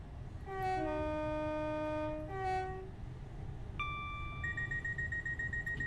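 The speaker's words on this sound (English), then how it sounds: "The horn as well, very good, as you heard before, demonstrated." A Class 375/377 electric multiple unit in Train Simulator 2020 sounds its two-tone horn twice in quick succession, loud and sustained, followed by a steady high electronic alarm tone over the low rumble of the moving train.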